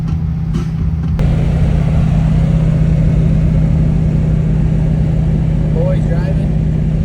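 A car with a clutch that will not fully disengage drives on a rally road trip, its engine a steady low drone with a persistent hum, close and continuous throughout.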